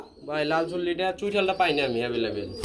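A male pigeon at a market stall selling pigeons and cattle coos in a steady, throaty rolling call lasting a few seconds, close and clear over soft background chatter.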